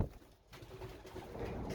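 Racing pigeons coo softly in a quiet, distant-sounding stretch, low murmurs over faint background noise.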